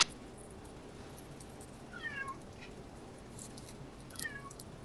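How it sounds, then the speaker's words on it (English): A pet cat meows twice at close range, short rising-falling calls about two seconds apart, over a steady low background hum in a quiet room. "Is my cat too loud?"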